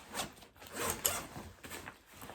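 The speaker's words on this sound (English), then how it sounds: "it does the full big unzip, which is really nice" Zipper on a piece of outdoor gear pulled open in one long continuous unzip, close to the microphone, with bursts of rasping texture and no talking.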